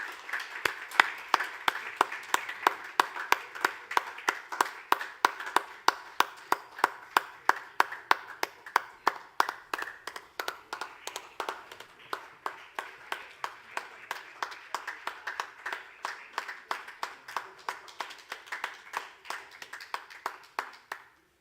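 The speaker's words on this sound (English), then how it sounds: "Another round of applause, please, for Llewellyn and his team at Genesis Community IT Initiative" Steady applause from an awards ceremony audience, dense clapping that runs across the whole stretch and grows more rhythmic and evenly spaced toward the end, moderately loud with no talk over it.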